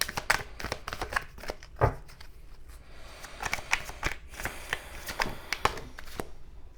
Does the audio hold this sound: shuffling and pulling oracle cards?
yes